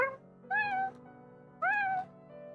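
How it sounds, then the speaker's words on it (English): A cat gives two clear, close meows about a second apart, each a rising-then-falling cry, with quiet background between them. "That's the kitten noise."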